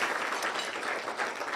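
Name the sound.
audience applause at a cybersecurity event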